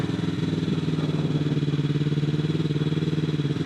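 A Yamaha R3 motorcycle engine idles close by, a steady, even mid-pitched throb with no revving and no talk.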